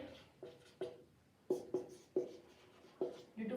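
Chalk or marker writing on a board during a lecture, a series of about nine short scratchy strokes in an uneven rhythm, close and fairly quiet with no talk.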